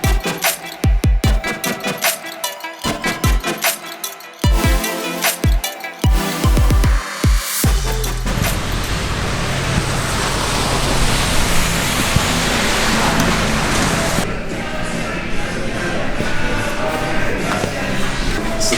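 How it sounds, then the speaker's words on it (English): Heavy pouring rain drumming steadily as a broadband roar, loud and continuous, with sharp knocks and thumps in the opening seconds before the downpour settles into an even wash. "And it's still pouring down rain."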